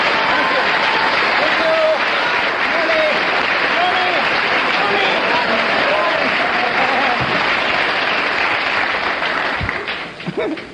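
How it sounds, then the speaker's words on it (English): A comedy panel show's studio audience applauds, a dense, continuous wash of many hands clapping, loud and steady for about ten seconds before starting to fade. "I'm going to ask the audience to show approval by their applause"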